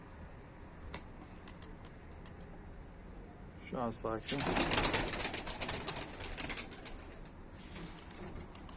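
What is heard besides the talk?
bird during training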